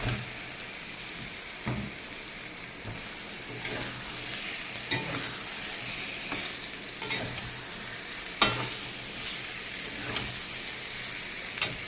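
Fried pointed gourd pieces are stirred in a hot pan, giving a steady crackling sizzle broken by regular scrapes and taps of the spoon, close up and without talk.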